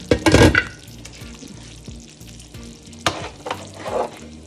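Kadhi curry simmering and frying in a pot, a close, loud sizzle with bursts of stirring and scraping at the start and again near the end, with no voices.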